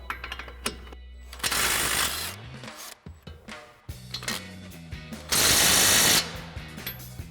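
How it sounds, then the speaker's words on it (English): An air-powered impact wrench rattles off strut mounting bolt nuts on a 2016-2024 Camaro, in several loud hammering bursts separated by short pauses and softer metallic clicks. "So you may have to switch out to your air-powered impact, which we're doing right now."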